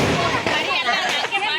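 Firecrackers going off at a festival celebration, a quick series of sharp bursts and cracks mixed with nearby chatter and background voices, close and fairly loud.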